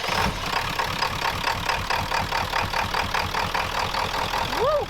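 A Ford truck engine idles steadily after a jump start, its low rhythmic running constant and fairly loud throughout, with a brief rising whistle-like tone near the end.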